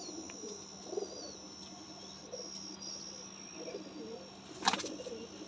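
Pigeons in a breeder's loft give soft, scattered coos, faint and a little distant, over a low steady hum, with a brief sharp call near the end.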